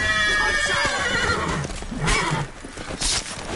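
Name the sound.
horse neighing in video game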